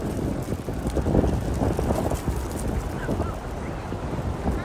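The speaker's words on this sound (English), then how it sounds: "it's a windy one out here" Steady wind roars and buffets the microphone outdoors in Prospect Park, Brooklyn, a low continuous rumble with no voices.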